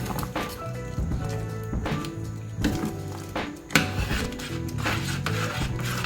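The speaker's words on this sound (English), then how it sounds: "So we're gonna go ahead and mix this up." Red peas soup with pigtails being stirred in a pot, a spoon scraping and rubbing rhythmically against the pot's sides and bottom, close up and fairly steady.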